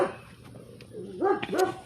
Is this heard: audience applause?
no